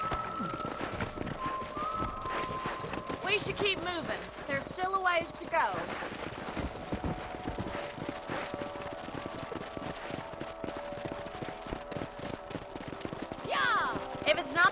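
Horse hooves clip-clop in a rhythmic gallop across the Red Dead Redemption video game, under steady game sound and music, with someone speaking over them and scattered gunfire.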